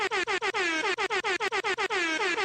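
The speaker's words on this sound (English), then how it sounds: "Crazy with the air horns." Rapid repeated air horn blasts, loud and close, in a quick stuttering rhythm with brief gaps between each honk.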